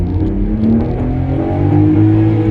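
A Volkswagen Polo with a 1.0 MPI petrol engine at full throttle, running close and loud with a steady, rising rev and the whir of wheelspin, with no talking over it.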